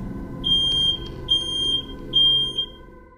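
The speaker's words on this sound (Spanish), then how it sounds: "We have two more smoke alarms in the house." Three shrill beeps from a smoke alarm in a house ring out at a steady rhythm, loud and near, over a faint room background.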